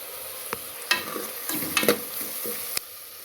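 Bitter gourd sautéing in oil in a pan over a low flame, a soft sizzle broken by several sharp stirring scrapes and clinks of the spoon, close and fairly quiet.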